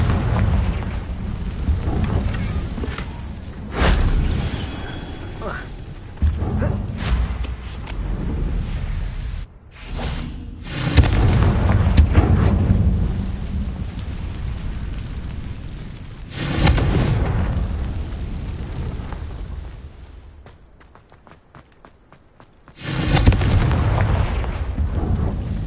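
Confringo spell blasts in the video game Hogwarts Legacy erupt as heavy, booming explosions with rumbling tails, several bursts spread across the span with a brief quieter lull near the end.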